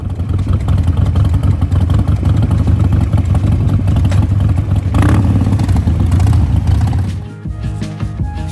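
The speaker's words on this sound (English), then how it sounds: "It's time for us to hop on our Harleys and head up to the Street Vibes Spring Rally in Virginia City." Harley-Davidson motorcycles riding to a spring rally in Virginia City, a loud steady engine rumble throughout that drops off and shifts near the end.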